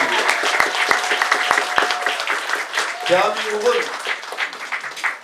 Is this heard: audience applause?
yes